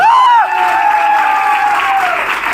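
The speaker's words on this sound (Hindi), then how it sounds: "एक जोरदार तालियां आपके लिए।" Steady applause from an audience at a speech event, even and continuous clapping with some cheering voices over it, fairly close and loud throughout.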